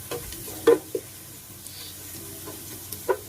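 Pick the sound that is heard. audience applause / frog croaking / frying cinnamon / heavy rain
frying cinnamon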